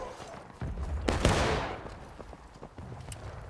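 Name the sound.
musket volley gunfire in the video game War of Rights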